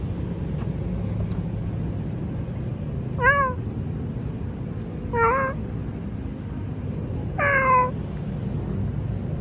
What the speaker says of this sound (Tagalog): May pusa po.